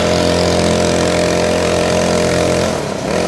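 A stock 49cc two-stroke pocket bike engine without a muffler runs close and loud in a continuous buzzing drone, with a slight dip near the end.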